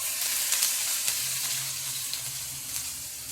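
Chopped onion frying in hot oil with mustard seeds and urad dal, a dense continuous sizzle with light crackle, close and steady.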